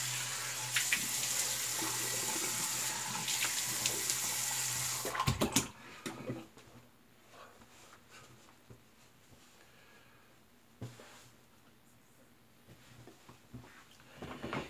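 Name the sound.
tap water running while rinsing a razor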